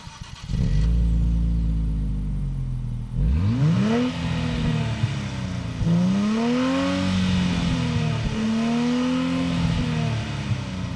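2023 Nissan Z engine heard through its dual exhaust, starting up and then revved about four times in quick, rising sweeps that fall back to a steady idle, loud and close with no talking.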